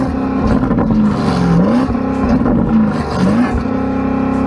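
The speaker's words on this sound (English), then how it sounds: "Go on, rev the car up." Porsche Cayenne Turbo GT engine revving while stationary against a soft limiter, loud and close, with repeated blips rising and falling over a steady idle drone and no talking.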